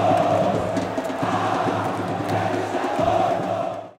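Náutico football supporters chant the coach's affectionate nickname in a stadium, a loud sustained rhythmic crowd chant with cheering.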